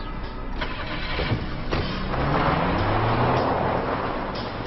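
Car engine cranking and catching, then idling and revving as it pulls away, loud and close with a rising hum toward the end.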